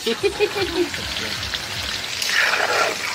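Potatoes dropped into hot oil for a home-cooked Santali-style country chicken meal burst into a bright hissing sizzle that swells louder partway through, with people talking nearby.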